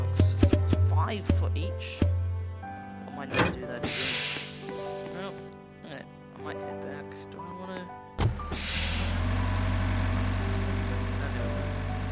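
A truck's air brakes release with loud hissing bursts of air, mixed with engine rumble and rattling, while people talk nearby.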